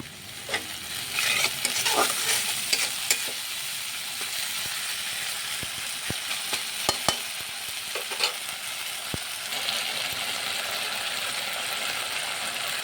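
A spice mixture with salt, sugar and red chilli powder is stir-fried for chicken fry, a steady sizzle broken by sharp spoon clacks and scraping against the pan, close-up with no voices.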